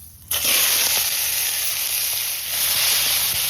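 Chopped tomatoes drop into hot oil already seasoned with panch phoron, bay leaf and dried chilli, setting off a sudden loud, steady sizzle that carries on without a break, with no voices over it.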